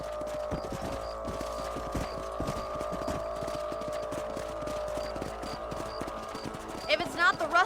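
Horses from Red Dead Redemption clip-clop steadily at a gallop, a dense repeating hoofbeat rhythm under a low ambient hum, with a brief louder burst near the end.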